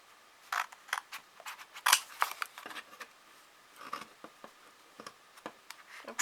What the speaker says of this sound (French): je vais couper légèrement en biais ici